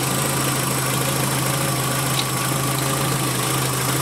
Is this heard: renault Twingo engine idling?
yes